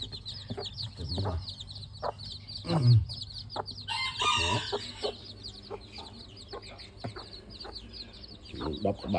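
Chickens and small chicks cluck and peep in a coop, with a rooster crowing briefly partway through; steady close farmyard chatter with some background noise.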